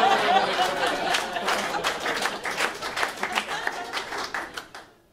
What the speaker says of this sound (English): I love an applause break.